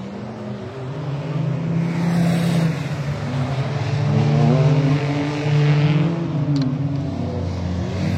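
A Honda Today budget race car drives with its small engine droning steadily, the revs swelling and easing as it moves along. The engine is close, continuous and fairly loud throughout.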